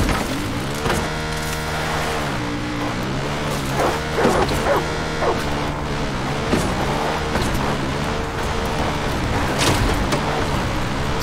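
A dog barks and yips repeatedly in Far Cry 5, fairly loud and close, over a steady engine-like hum and game background noise.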